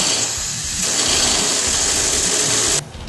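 A cutoff wheel lightly scoring a metal surface gives a loud, steady high-pitched whine with grinding hiss that cuts off abruptly near the end.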